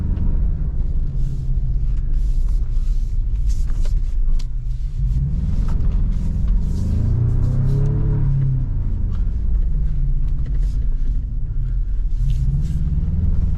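Toyota 4Runner TRD Pro with traction control off, sliding on a rough off-road track: a loud, steady engine rumble that swells and revs around the middle, with gravel and road noise throughout and no talk.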